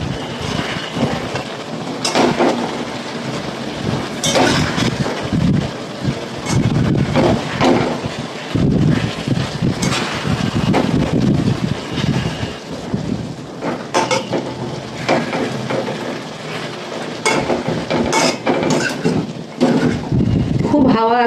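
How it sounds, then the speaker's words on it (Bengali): Strong wind blows outdoors under an overcast sky, a loud, continuous roaring rumble with surging gusts that sweep on without pause. "খুব হাওয়া আজকে"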